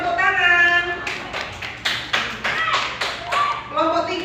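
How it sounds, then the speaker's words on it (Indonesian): Students in a classroom respond with a rhythmic burst of group clapping in regular beats, starting after a short stretch of a teacher's speech and ending with a voice again. "Beri tepuk tangan."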